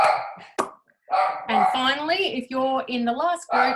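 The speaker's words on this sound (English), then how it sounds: "apologies for my dog barking" A dog barks once, short and sharp, early on in a home during an online community forum, while a person speaks steadily around it.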